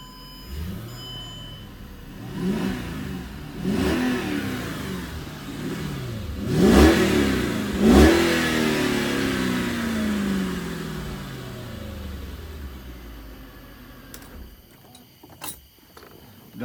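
Warm Mercedes car engine revving, several separate rising-and-falling revs that swell and fade at close range, then a quieter idle with a few clicks near the end.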